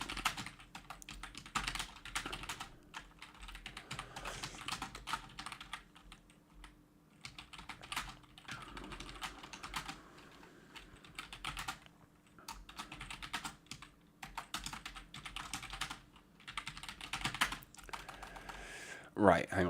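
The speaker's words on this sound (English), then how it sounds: "I'm going to type it now, okay? So I'm typing the question" Someone types a question on a computer keyboard, with bursts of close, clattering keystrokes that pause and resume over about twenty seconds.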